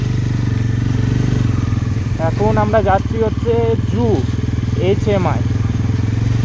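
A motorcycle rides a hill road in Darjeeling during light rain, its steady engine drone running loud and close throughout while someone talks over it.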